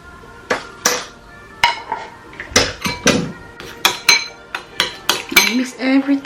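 A utensil clinks and scrapes against a bowl while homemade teeth-whitening ingredients are mixed with salt: a rapid series of sharp metallic taps and clinks, loud and close, with irregular rhythm.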